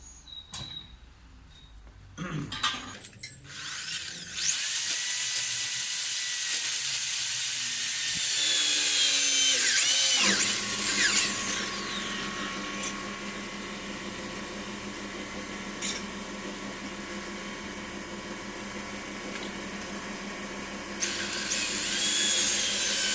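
A power drill bores holes in a motorcycle fairing, a loud, sustained high whine that starts and stops in long bursts, with handling noises and brief pauses between holes.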